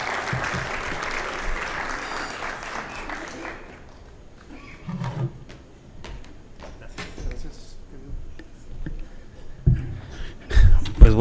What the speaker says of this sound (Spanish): Le pido que le den un aplauso al doctor Chacón